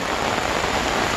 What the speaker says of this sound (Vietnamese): Mưa to nó vượt rồi